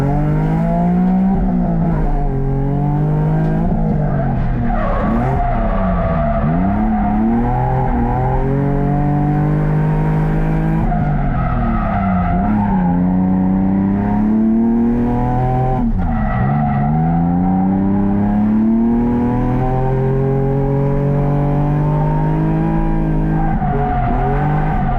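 Drift cars at a drift event scream past with high revving engines and long tire squeal, loud and continuous, pitch rising and falling as throttle shifts through each slide.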